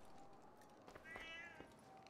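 A cat meows in Assassin's Creed Unity, a video game. It gives a couple of short, faint mews over a soft ambient background.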